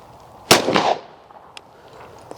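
A single close shotgun blast from a Marocchi over-and-under fired at a clay target, a sharp loud report with a short ringing tail, followed by faint small sounds.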